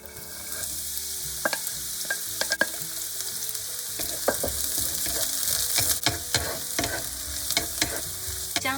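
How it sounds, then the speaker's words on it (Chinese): Long beans sizzle in about 30 ml of cooking oil over high heat, a steady frying hiss punctuated by repeated sharp clacks and scrapes of a spatula stirring in the pan, close and continuous. "煎炒豇豆"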